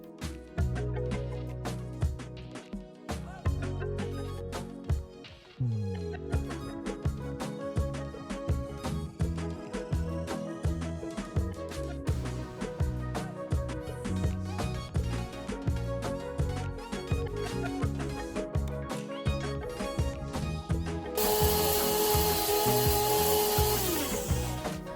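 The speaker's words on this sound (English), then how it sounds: "I will take this grounded Kamut and grind it up into a powder, because you want it to be very fine" An electric grinder mills Kamut grain into a fine powder for baby cereal, giving a dense, loud whirring roar in the last few seconds over steady background music.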